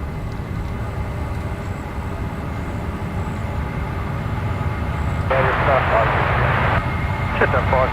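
A Jetstar airliner begins its takeoff roll at Brisbane Airport: a distant jet roar builds gradually and swells louder toward the end, heard under ongoing talk and faint radio chatter.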